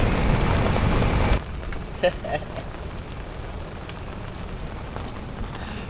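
Steady outdoor rainfall during a fishing trip on the rocky coast of Gunung Kidul, Jogja, a dense hiss that is loud for the first second and a half, then softer and continuous with a few small knocks.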